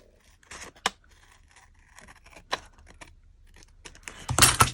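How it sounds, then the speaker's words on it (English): Scissors trimming excess paper from an envelope in a small craft session, a handful of short crisp snips and paper rustles, close and fairly quiet. "now I'm just going to carefully trim off the excess, trying not to cut through my envelope"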